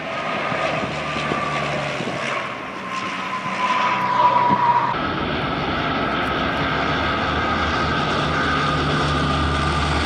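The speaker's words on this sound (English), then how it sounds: "NASA has their own version of the plane called the Super Guppy" A NASA Super Guppy cargo airplane drones loudly and steadily with a strong engine roar, its tone rising and then shifting midway as it passes, with no talking.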